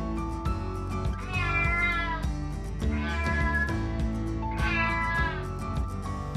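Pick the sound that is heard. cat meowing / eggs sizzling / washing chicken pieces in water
cat meowing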